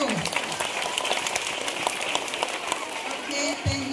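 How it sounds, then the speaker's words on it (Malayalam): Schoolchildren at Payyambalam Girls Higher Secondary School in Kannur clap together in a dense, continuous burst of applause that holds steady for a few seconds. "പോരല്ലോ, ഉഷാറായി കൈയടിക്കൂ."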